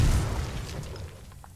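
Artillery shells land in the online war game Foxhole, a deep, heavy boom rolling out and fading over a second or so, loud and close.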